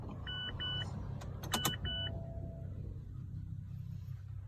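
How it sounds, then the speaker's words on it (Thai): Power windows whirring up and down inside a 2010 Mazda 2 five-door hatchback, several short motor runs with a few beeps and clicks over a quiet idling cabin, no talking. "กระจกไฟฟ้านะครับ"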